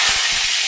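Whole spices such as bay leaf, cloves and cardamom hit hot oil in a kadai while butter chicken is cooked, giving a brief, loud, steady sizzling hiss close by.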